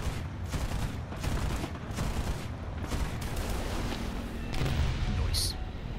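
Aircraft rockets fired in a flight combat video game, a rapid salvo of loud booming launches and impacts in steady succession over constant engine rumble.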